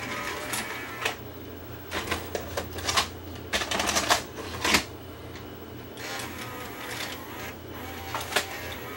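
A color bar tape goes into a Sony SLV-R1000 VCR with a fault: a run of close, irregular mechanical clicks and clatters from the loading mechanism over a constant low electrical hum.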